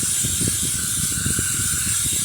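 Vanish cleaning chemical spray hissing steadily and loudly up close for the whole stretch, with faint low mechanical clicks repeating under the continuous hiss.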